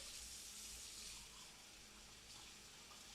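Tap water runs steadily into a glass being rinsed at a kitchen sink, a continuous soft broadband rush at close range with no voices over it.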